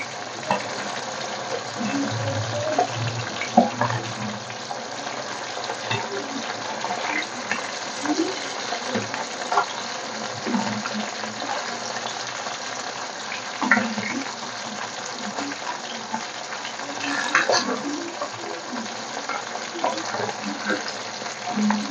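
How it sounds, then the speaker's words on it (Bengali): Amudi fish fry steadily in a pan, giving a constant oil sizzle with occasional stirring and spatula sounds close by. "উল্টে উল্টে ভেজে নিতে হবে।"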